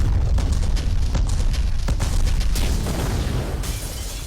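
Gunfire and explosions from the PS2 first-person shooter Black, a dense, continuous barrage of booming blasts and sharp bursts, loud and close, with no talk.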